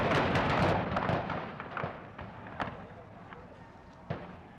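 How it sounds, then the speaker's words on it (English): Archival recording of gunfire at the Kent State University campus protest, a loud opening burst followed by scattered, echoing shots that fade into the distance. "plangent gunfire rang out across the Kent State University campus"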